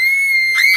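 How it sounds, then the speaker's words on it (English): A posse of women screaming in an audio drama, a sustained high shrill cry that swells louder near the end, close and alone with no talk over it. "I spin around to the sound of a posse of screaming women"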